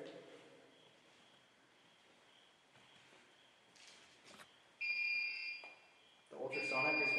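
A motion detector in a building investigated by ghost hunters emits a high, steady electronic beep that starts faintly and then sounds loud and continuous in two bursts, with faint movement around it.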